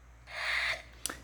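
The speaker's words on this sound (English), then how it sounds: "And that's the sound of a web." A vintage 1991 talking Spider-Man toy figure plays its web sound effect: a short electronic hiss that swells for about half a second, then a quick sharp click at the end, close and fairly quiet.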